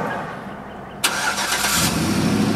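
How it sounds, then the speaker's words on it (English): A 2013 Chevy Silverado 1500 LTZ crew cab truck starts by remote: a quiet stretch, then a sudden crank and catch about a second in, and the engine settles into a steady, fairly loud idle with no talking. "To operate the remote start, you have to have the truck in the lock position, and you just press this center button."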